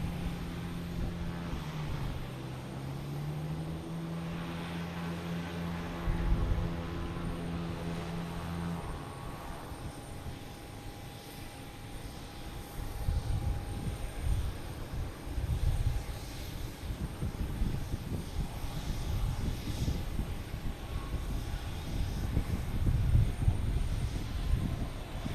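An American Airlines airliner takes off at Boston Logan Airport. Its engine roar builds from a distant whine to a louder, rumbling thrust that swells toward the end, with no talk.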